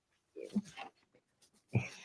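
A young puppy making a few short grunting, whimpering vocal sounds, close by and fairly faint, in two small bursts separated by a pause.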